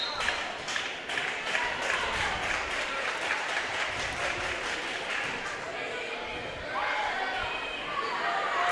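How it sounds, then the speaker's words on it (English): Visiting fans cheer and applaud steadily in a gym during a Region 4A volleyball playoff match, a dense, continuous crowd roar with scattered claps and thuds, sounding moderately distant and lasting throughout. "Their visitor section is really giving them some momentum with their cheering there"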